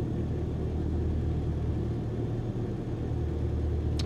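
A Cessna 152 engine idles in Microsoft Flight Simulator 2020, a steady low droning rumble with no change in pitch.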